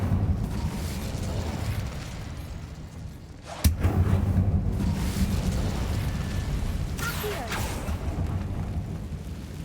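An Incendio fire spell cast in Hogwarts Legacy inside a decayed catacomb, a single sharp burst followed by a sustained roaring rumble over the game's ambient bed.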